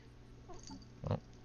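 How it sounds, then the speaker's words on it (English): A pet cat gives a short, close meow, preceded by a couple of faint softer sounds, with no one talking. "Oh, there's my cat."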